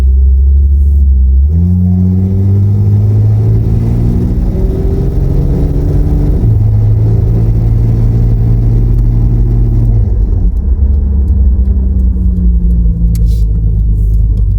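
An Opel Monza 3.0 coupe from the 1980s with an automatic gearbox drives along, its engine rumbling loud and close inside the cabin, pitch rising through gears with shifts audible as drops, steady throughout.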